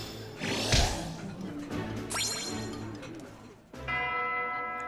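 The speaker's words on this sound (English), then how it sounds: "Here goes the bell" Bell chimes ring out in Fire Emblem: Three Houses, a struck tone near the start followed by a bright sustained ring near the end, layered over steady game music.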